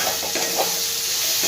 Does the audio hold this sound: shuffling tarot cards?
no